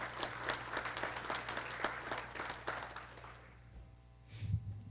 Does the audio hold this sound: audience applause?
yes